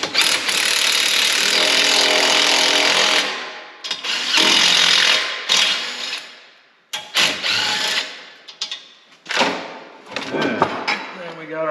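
A power tool drives bolts into the cover of a Yukon 14-bolt 40-spline front axle during assembly, with a long loud continuous run followed by several shorter bursts, alongside speech.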